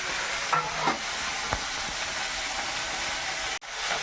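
Fritters and fish fry in hot oil with a steady background sizzle, broken by a few soft clinks and stirring sounds and a brief dropout near the end.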